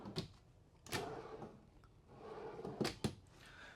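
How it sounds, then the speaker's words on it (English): Drawers in a travel-trailer kitchen slide open and shut, giving several quick sharp knocks and rolling thuds spaced irregularly, fairly close but quiet, with no voices. "Some nice drawers down here."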